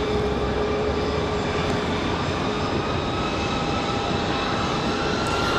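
A Delta jet airliner departing Raleigh-Durham International for Atlanta gives a steady, loud engine roar that holds evenly throughout, with a few high whining tones layered over the rumble.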